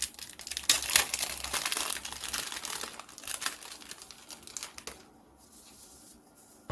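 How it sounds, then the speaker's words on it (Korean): Crinkly plastic packaging of a GoPro 8 screen protector film being torn open up close, a busy run of crackling and ripping that thins out near the end, with no talk. "서비스로 준 필름을 뜯어볼게요. 이렇게 개봉하면 액정 보호 필름이 이렇게 들어있습니다."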